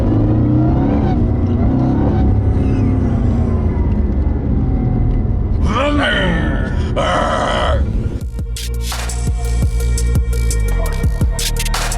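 A Lamborghini sports car engine, a deep loud growl that rises through revving sweeps, then cuts to a sharper, brighter high-revving blast with gear-change jumps near the end.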